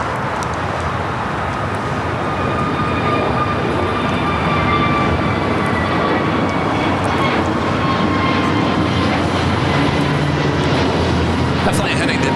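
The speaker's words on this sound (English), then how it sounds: "This is the Dreamliner coming in from London Heathrow" A United Boeing 787 Dreamliner arriving at LAX from London Heathrow, heard as a loud, steady broadband roar of jet engines with faint high whining tones, continuous and close throughout.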